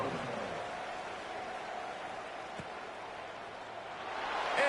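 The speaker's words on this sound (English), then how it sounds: "this crowd is buzzing after that last score" Football stadium crowd buzzing after a score at a college game, a steady, dense roar of many voices that swells slightly toward the end, heard from a distance with no announcer speech over it.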